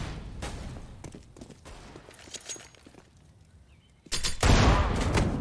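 HE grenade blast and gunfire in a Counter-Strike match on the Inferno map: scattered shots and rattling bursts, then a sudden loud, sustained explosion-like roar filling the last second and a half.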